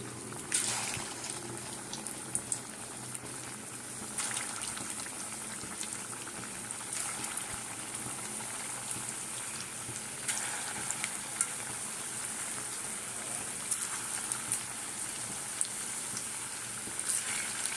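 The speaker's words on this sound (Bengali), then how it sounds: "তেলটা গরম হয়ে গেছে এবারে এই যে করে রেখেছি এগুলোকে ভেজে নিয়ে আসবো" Meatballs fry in hot oil in a wok, making a soft, constant bubbling sizzle with small crackles that holds steady for the whole stretch and no talking.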